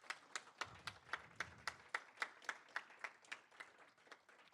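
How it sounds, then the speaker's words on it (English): A small audience at a networking class claps for sponsors, a sparse, rhythmic run of about fifteen distinct handclaps at an even pace, fairly quiet and in a room, fading slightly toward the end. "Clap it up for the sponsors."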